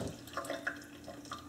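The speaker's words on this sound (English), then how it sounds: "if I just flush some water through here" Water is flushed through a clogged refrigerator water valve on a Kenmore Elite fridge, giving a short, close burst of splashing and trickling.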